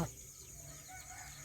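Lineage-breed country chickens cluck softly and faintly in the distance, a short low-level burst of farmyard fowl sounds.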